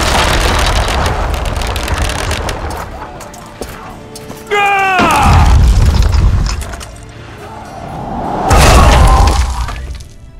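A ballista in Witcher 2 fires with a creaking mechanical release, then a heavy crashing impact; a second loud boom follows later, with background rumble and voices heard in between.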